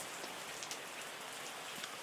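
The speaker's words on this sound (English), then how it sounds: "That rain coming again." Rain falls steadily in the Terroir wine-making tycoon game, a soft, even hiss of drops with faint scattered patters throughout.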